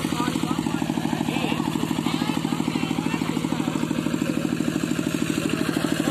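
A motorcycle engine runs close by with a steady, rapid pulsing chug that stays loud and even throughout, while people talk over it.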